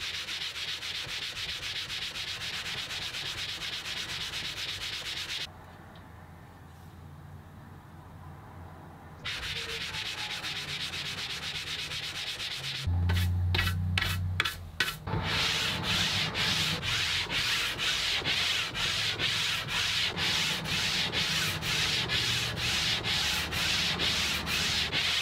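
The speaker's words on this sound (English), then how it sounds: "I'll flip this back over to my 150 grit sandpaper, and we're going to do the same thing with both sides of this." The side of a Stanley No. 4 hand plane's metal body scrapes back and forth on 150 grit sandpaper, a long, steady rasping with brief pauses and a quicker rhythmic run of strokes partway through.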